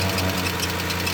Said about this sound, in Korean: 다른 리프터 소리가, 밸브 리프터 소리가 이렇게 나죠